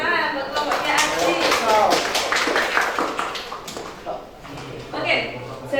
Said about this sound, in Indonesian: Tepuk tangan buat kelompoknya Aksi.